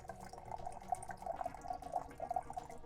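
Hot water poured for flatbread dough, a steady faint stream with small dripping splashes running throughout without a break.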